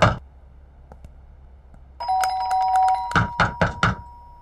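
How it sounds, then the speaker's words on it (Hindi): A doorbell rings at a house door, first a long sustained electronic chime tone followed by a quick series of four sharp bell dings, loud and near with no talking. "मैं बजा रहा हूँ ना घंटी"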